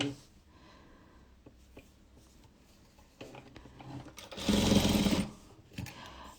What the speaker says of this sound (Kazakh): Енді амал жоқ, тігу керек болып тігіп отырмын.